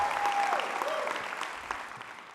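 Graduating class at a university commencement ceremony applauding and cheering, a broad steady wash of clapping from a large indoor crowd that holds for a couple of seconds and slowly thins, with a few whoops rising above it.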